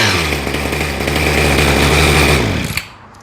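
A Poulan Pro hedge trimmer with a freshly rebuilt carburetor runs loud and close with a buzzing two-stroke drone, then drops sharply toward idle near the end.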